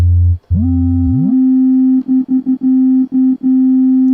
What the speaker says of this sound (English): I'm going to take that classic sine wave, make one more instrument here.